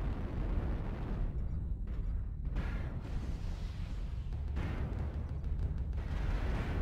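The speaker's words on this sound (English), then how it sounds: "that LRM barrage almost hit you, and it was friendly" A barrage of LRM missiles explodes in the MechWarrior Online video game, producing a continuous deep rumble with repeated booming blasts and bursts, loud and dense throughout with no speech.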